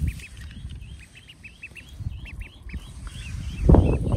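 Repeated short quacks from a duck, fairly close, over rustling background noise, with a louder thump near the end.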